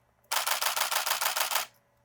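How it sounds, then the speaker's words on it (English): A Nikon D850 DSLR camera fires a rapid burst of about a dozen crisp shutter clicks in quick succession, lasting over a second against near silence. "listen to the shutter sound."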